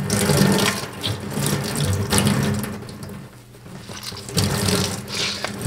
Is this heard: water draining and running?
yes